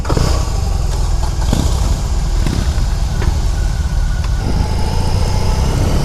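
A BMW R18 motorcycle rolls over gravel on a Costa Rica road, its engine a steady, loud low rumble throughout with wind noise and faint crunching ticks over the top.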